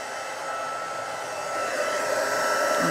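Heat gun used for heat embossing a stamped card, a steady close blowing roar like a hair dryer that runs continuously and grows slightly louder toward the end, with no talk.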